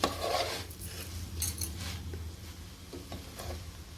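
Rice roasts in ghee or oil inside a pressure cooker for vegetable pulao, heard as a spoon scraping and lightly clinking against the metal in a few soft, irregular strokes.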